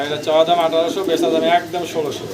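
Racer pigeons, a paired male and female, coo in repeated rolling, throaty calls close by, with voices talking over them.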